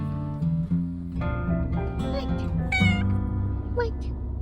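A house cat gives several short, squeaky meows in a row, close and clear over a low rumbling background, apparently while riding in a vehicle.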